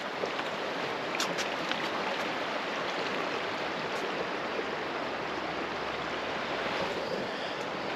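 A swollen river, running at least twice its winter size and spilling over bushes on its banks near Keremeos, gives off a steady, broad rushing roar with no pauses and no voices.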